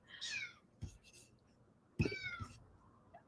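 A house cat gives two short, close meows a second or so apart, quiet and intimate, with faint rustling between them.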